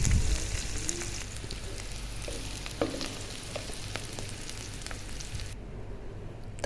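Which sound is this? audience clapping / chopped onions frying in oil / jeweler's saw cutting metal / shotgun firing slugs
chopped onions frying in oil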